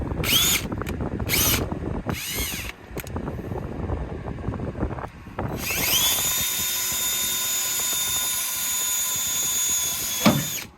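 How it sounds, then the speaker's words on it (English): A power drill bores holes into a Toyota Tacoma truck bed, opening with short stop-start bursts, then one long, loud, steady high whine for several seconds before cutting off. "now you can drill your holes without poking holes in your lights"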